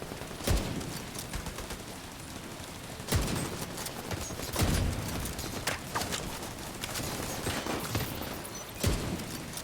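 Gunfire in the video game The Division 2, scattered sharp shots and short bursts at irregular intervals against a busy, crackling game background, moderately loud and without talk.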